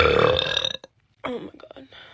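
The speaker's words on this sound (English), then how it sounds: "I just reverse burped." A woman lets out a deep, drawn-out burp lasting under a second, then after a short pause a second, rougher and quieter belch trails off; close and loud with no other voices.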